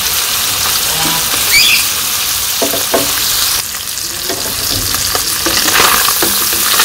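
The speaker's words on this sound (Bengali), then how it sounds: "এইদিকে মাছ ভাজা" Small fish fry in hot oil in a wok-style pan in a village kitchen, a loud continuous sizzle with occasional scraping and clinks as the fish are turned, no talking.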